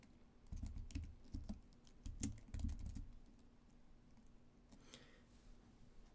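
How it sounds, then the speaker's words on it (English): Quick bursts of typing on a computer keyboard while entering a web address, soft close clicks in an irregular run before trailing off into quiet. "We simply type in the URL"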